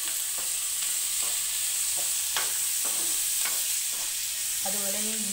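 Asafoetida dropped into hot oil for a kanthari chili pickle sets off a constant hiss of frying, with sharp stirring clicks against the pan and a brief tonal squeak near the end.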